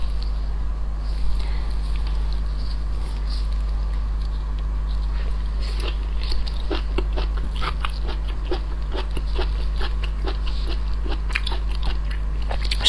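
Big crab claws in soy mustard sauce are bitten and chewed close up, with crisp cracking and crunching bites grouped in the second half over a steady low hum.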